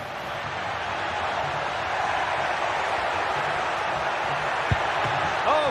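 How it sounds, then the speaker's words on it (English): Steady crowd roar from a simulated football match in a Gran Turismo Sport league broadcast, a broad continuous wash of cheering that swells slightly toward the end with no break. "The crowd have really got behind them today."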